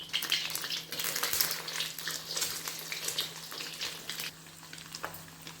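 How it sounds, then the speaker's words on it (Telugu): Eggs fry in a pan, a close, steady crackling sizzle with bursts of spitting oil and faint scraping, continuous and fairly quiet, easing slightly near the end with no talking. "ఎగ్స్ వేసిన తర్వాత గిరగిర పెట్టి కలపకుండా నిదానంగా అవి కొంచెం ఫ్రై అయిన దాకా కలపకుండా ఉంచండి."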